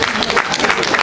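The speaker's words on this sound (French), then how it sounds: "vous pouvez l'applaudir très très fort" Loud, dense audience applause for a chef at a cooking event, a brief close burst of many hands clapping with some voices blended in.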